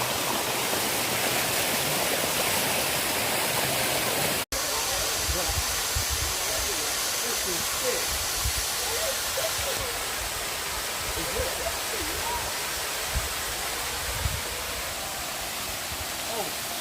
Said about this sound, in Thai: อันนี้น้ำตกบัวตองชั้นที่4เราลงไปแล้วนะเห็นไหม